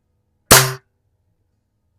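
A single sharp, loud shot from a 499B gun fired at a cardboard target, close by and dying away quickly into silence, with another shot just starting at the very end.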